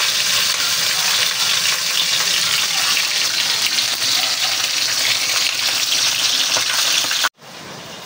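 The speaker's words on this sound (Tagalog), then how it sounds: "Antayin po natin na maprito para po mas masarap." Steady, loud sizzling of tilapia frying in hot oil, continuous for several seconds before it drops off abruptly near the end.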